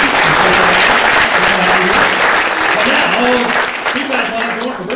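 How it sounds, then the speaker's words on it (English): A large audience at a motivational speaking event applauds steadily and loudly throughout, a dense wash of clapping with a few voices mixed in. "give her a big round of applause"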